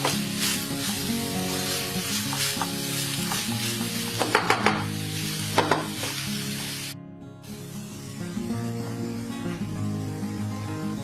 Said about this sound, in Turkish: Biber ve soğan da özecek şekilde hafif hafif kavruluyor.